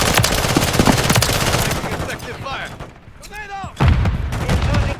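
Rapid automatic SMG gunfire in a multiplayer shooter video game, dense loud bursts that fade briefly under scattered game sounds before another heavy burst resumes.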